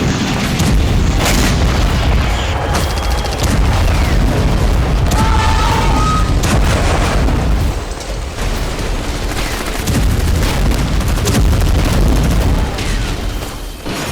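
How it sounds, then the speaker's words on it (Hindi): Heavy bombing and gunfire in a West Bank refugee camp during an Israeli military operation, with loud continuous booms and crackling shots filling the whole stretch, dense and near with no pauses. "हमले, बमबारी, फायरिंग, झड़प और टकराव।"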